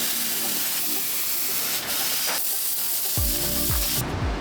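Compressed air blasts through the stitching of a 20-year-old suede shoe during cleaning, a steady close-up hiss throughout, with a few bursts and gurgling pulses near the end.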